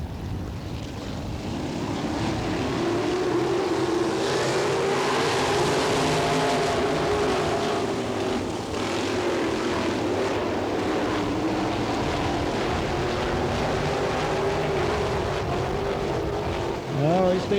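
Econo Sprint cars racing in a heat race: a continuous roar of several engines with rising and falling pitch as they pass, loud and sustained, with a brief sharper sound near the end.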